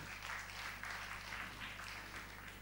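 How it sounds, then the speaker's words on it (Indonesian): A church congregation applauds during a sermon, a soft, steady wash of clapping with a gently pulsing rhythm throughout. "Beri tepuk tangan kepada Tuhan."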